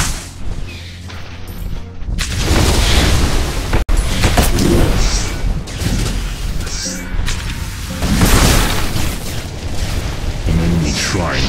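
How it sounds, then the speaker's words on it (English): Heavy booms and rumbling blasts fill a video game battle as an enemy shrine is destroyed, loud and continuous with a sharp crack near the middle and layered impact noise throughout. "An enemy shrine has been destroyed."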